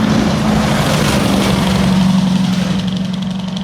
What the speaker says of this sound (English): FLD 120 dump truck.